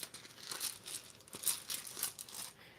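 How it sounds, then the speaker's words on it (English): Rune stones crinkle and rattle as they are shuffled in a bag or cloth, a soft irregular rustling close by with no talking. "So I've shuffled the runes."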